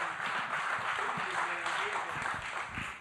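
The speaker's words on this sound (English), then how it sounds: "Give James a round of applause." Audience applause at a live libertarian comedy and podcast show, a steady dense patter of clapping filling the room at moderate volume, with a few voices and cheers mixed in.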